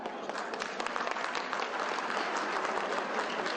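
Guests at a formal Turkish finance inspectorate anniversary reception applaud to welcome an arriving guest, a steady, moderately distant round of clapping from a sizeable crowd.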